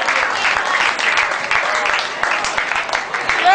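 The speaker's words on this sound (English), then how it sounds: "Give him a round of applause." An audience at a DC Bailey's Icon competition event in Arlington, Virginia, applauds a contestant with steady, dense clapping that fills the room, while a voice talks over it.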